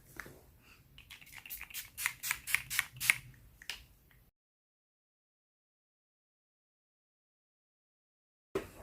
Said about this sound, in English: let's set this face using the Urban Decay All Nighter Setting Spray